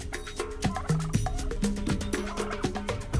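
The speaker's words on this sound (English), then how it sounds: "brush turkeys form roosting groups in trees" Australian brush turkeys calling, a run of close, clear gobbling and clucking notes with bursts of higher chatter, repeated rapidly over a few seconds.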